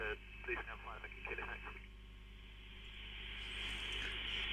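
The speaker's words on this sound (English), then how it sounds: "they are using AM ancient modulation on the airport band and the air bands" AM airband radio transmissions come through a receiver, with crackly, band-limited voices over a steady hiss and hum, fading into static noise.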